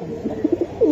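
A military cheetah pigeon gives a brief run of low, throaty coos, three or four quick pulses close by, over faint background noise.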